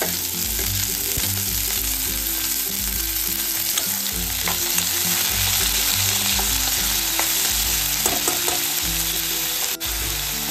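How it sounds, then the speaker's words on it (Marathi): Finely chopped spring onion greens fry and sizzle with sautéed onion in a pan, a loud, continuous crackling hiss with intermittent stirring scrapes, and no voices. "आता यामध्ये ही जी बारीक चिरलेली कांद्याची पात आहे ती आपण टाकूयात."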